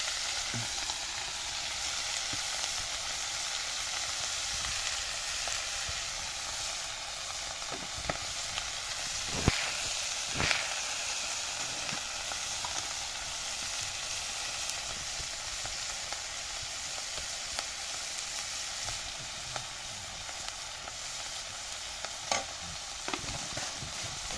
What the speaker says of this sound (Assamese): লাই শাক দি দিলোঁ ভাজিছোঁ অকণমান মাছৰ মাথাকেইটা দি দিম